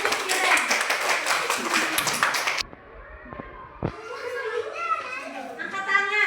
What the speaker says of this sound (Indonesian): tepuk tangan dulu untuk Iren